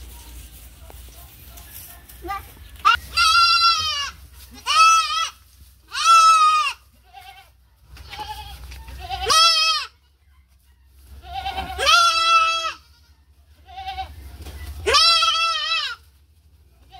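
Goats bleat repeatedly during a vaccination in the thigh, loud close cries coming every second or two in an uneven series, with faint low background rumble between them.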